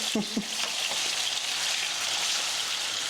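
Chicken searing in a hot pan, a steady crackling sizzle throughout, with a few brief clinks and a faint voice near the start.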